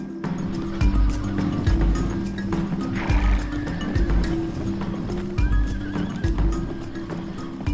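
Meandering horses on the Gansu grasslands, a specialty breed of the plateau, neigh and whinny while hooves clip-clop in steady repeated thumps, fairly close and prominent over an outdoor background.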